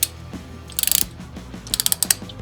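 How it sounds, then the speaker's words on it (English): A 5mm Allen key or bit tightening a bolt on Yamaha R1M crash protection gives quick bursts of sharp ratcheting clicks, one run near the start and another toward the end, close and crisp with no talk. "you can continue with a 5mm Allen key or 5mm Allen bit. Tighten it to recommended specs."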